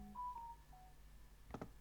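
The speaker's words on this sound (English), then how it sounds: "That was my phone." A mobile phone chimes faintly in the background with a short run of electronic tones, then a couple of brief clicks, with no one talking over it.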